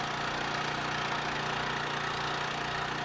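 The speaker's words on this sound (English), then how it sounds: "Now we'll start the engine so that we can adjust the length of the hydraulic cylinders" The engine on a Liddell trailer booster idles steadily, a constant, even hum with no breaks, fairly close and alone.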